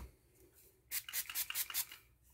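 A Henckels santoku knife drawn across a coarse 120-grit Norton Crystolon stone gives a quick run of about six short, gritty scraping strokes, close and fairly quiet, following a brief near-silent pause.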